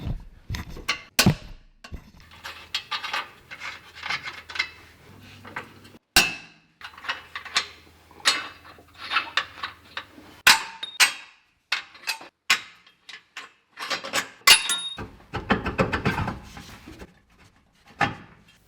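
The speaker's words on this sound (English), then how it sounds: "I'm just going to remove these 14mm bolts and nuts from the cross member and rip it out of the vehicle" Removing 14mm bolts and nuts and pulling the crossmember out of a Suzuki Jimny JB74: a long series of sharp, irregular metallic clanks, knocks and tool clicks, close and fairly loud, separated by short quiet gaps.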